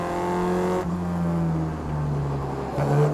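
An MGB racing car's engine drones loudly on a race track, its pitch climbing, then dropping sharply at gear changes as it pulls away again, with no talk over it.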